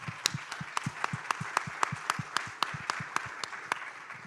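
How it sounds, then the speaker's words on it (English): Applause from a summit audience after a panelist's remark, fairly distant and soft overall, with one or two nearby hands clapping in a crisp, steady rhythm over a wash of wider clapping. "I feel like that might deserve a round of applause."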